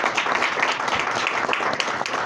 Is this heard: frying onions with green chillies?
no